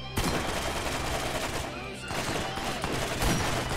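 Shotgun fire in Borderlands 1, the weapon carried by a bruiser enemy, sounds as a dense, loud barrage of blasts and gunfire that runs almost without a break under the game's battle noise.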